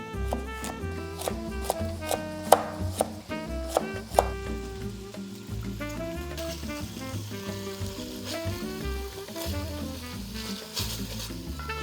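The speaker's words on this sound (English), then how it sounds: "we'll chop up our sofrito or our vegetables for the soup" Vegetables for a sofrito are chopped on a cutting board, with a few sharp knife knocks in the first seconds. The chopping is partly buried under prominent background music, and no one talks.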